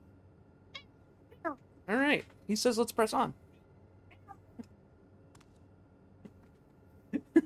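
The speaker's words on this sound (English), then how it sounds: "These meows are so funny." A pet cat meows several times indoors, short close cries scattered among bursts of someone talking, with quiet room tone between them.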